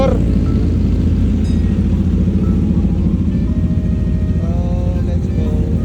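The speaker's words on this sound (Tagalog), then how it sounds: "Warm up na mga motor." Motorcycle engines warming up rumble and idle loudly and steadily up close, a continuous low throbbing with voices faintly mixed in.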